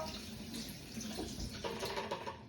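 Frozen blueberries are rinsed under a running kitchen tap, and the water makes a continuous close splashing rush over the fruit, with no voices.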